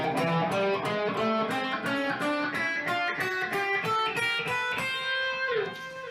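An electric guitar plays a quick run of single notes, with chromatic passing notes sliding between steps in an even, steady rhythm.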